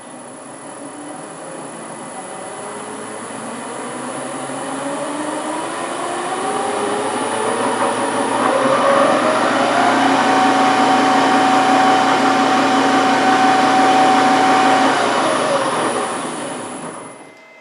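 An LT230 gearbox fitted with a 23-tooth gear whines steadily at full speed in a speed test, its rising mechanical drone climbing in pitch and loudness before holding a sustained tone near fifty miles an hour, then cutting off, with no talking.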